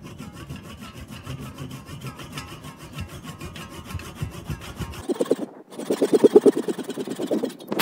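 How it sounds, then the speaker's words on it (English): A saw blade cuts around the front cabin of a wooden tugboat model, a steady rasping drone that shifts into louder, choppier strokes near the end. "So now I'm just going to rest the blade on this front cabin and get it started, and then follow it around."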